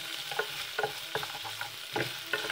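Pork and onion browning in a pan are stirred, giving a quiet, continuous sizzle and frying hiss broken by a few soft scraping strokes of the spoon against the pan, heard up close.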